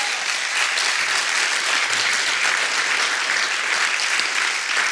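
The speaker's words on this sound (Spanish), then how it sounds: "Un fuerte aplauso." Steady, loud applause from a church congregation at an evangelical testimony service, continuous dense clapping filling the whole stretch with no break.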